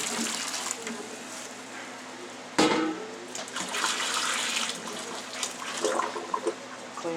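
Water running and gurgling down a kitchen sink drain, a continuous rushing splash up close with a sharp clunk partway through, while a person talks briefly in the background.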